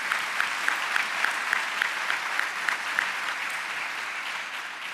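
An audience claps steadily, a dense sustained applause with a few rhythmic clap accents, tapering slightly at the end.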